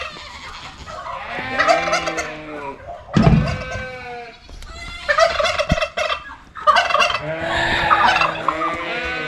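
A flock of turkeys gobbling in overlapping bursts, loud and close, with bleating animals mixed in among them.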